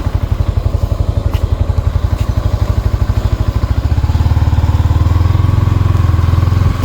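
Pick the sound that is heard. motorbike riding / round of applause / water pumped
motorbike riding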